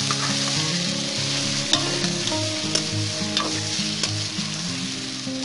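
Marinated chicken frying in a pot for a Champaran-style handi chicken, with a steady close sizzle and occasional stirring scrapes over continuous background tones.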